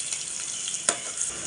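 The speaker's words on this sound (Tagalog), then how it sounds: "Igisa na po natin sa sibuyas" Onions sauté in hot oil for igado with a brief, close, steady hiss of sizzling and one sharper crackle partway through.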